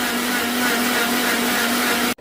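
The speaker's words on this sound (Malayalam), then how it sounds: "നന്നായി മിക്സി മിക്സിയിലിട്ട് നമ്മൾ അരച്ചെടുക്കുക" A mixie blender grinding milkshake ingredients for kids roars with a loud, steady whirring drone that runs unbroken for about two seconds, then cuts off abruptly.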